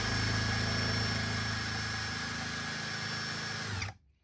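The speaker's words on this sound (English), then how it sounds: "This is a Bauer brushless drill right here on high speed." A Bauer brushless drill runs steadily at high speed for several seconds, a constant whirring whine with motor buzz, then cuts off abruptly near the end.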